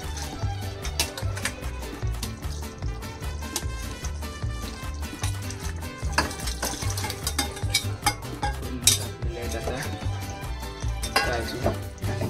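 Cashews stirred and frying in a kadhai with a little water added, steady bubbling sizzle with repeated scraping stirs throughout, fairly close and even in level, no talking.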